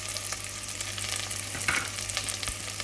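Cumin seeds sizzling in hot oil with softened onions for a Sri Lankan dahl curry, a steady close crackle with light stirring scrapes and a few small pops.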